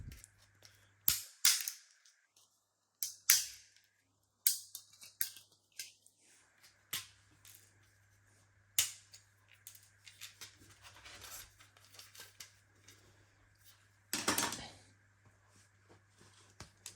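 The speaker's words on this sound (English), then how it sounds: "I'm going to cut these little tabs out at the bottom. Not even really going to cut them, I'm just going to get my flathead" Plastic knockout tabs on a thermostat backplate are pried out with a flathead screwdriver, giving a series of sharp, close snaps and clicks at irregular intervals, with a soft scrape between them.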